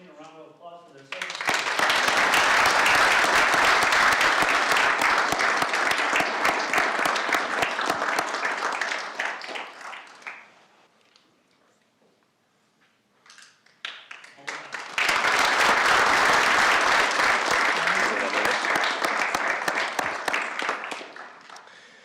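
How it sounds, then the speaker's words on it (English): City council meeting audience breaks into sustained applause, dense and loud for several seconds, falls silent briefly, then a second long round of clapping swells back up. "if you all join me in a round of applause for their service."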